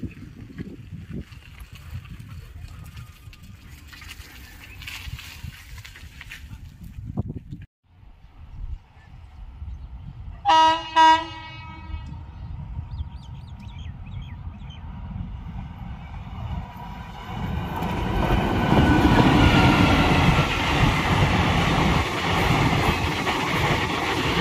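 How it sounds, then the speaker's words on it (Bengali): A train running from Medinipur toward Bankura passes an open spot beside the line, building from a distant rumble into a loud, sustained roar with a brief burst of horn-like tones along the way. "এই ট্রেনটা মেদিনীপুর স্টেশনের দিক থেকে এলো আর এখন যাচ্ছে বাঁকুড়ার দিকে।"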